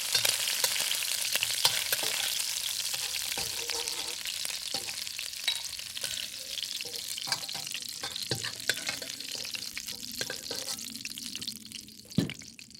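Ginger stir-frying in a pan for a shrimp and cucumber dish gives a steady close hiss of sizzling oil, broken by frequent scraping clacks of a utensil against the pan, with no talking.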